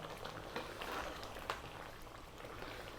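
Greek lamb stew simmers gently in a pot, a soft steady bubbling and patter held low and continuous throughout, with a couple of slightly sharper pops.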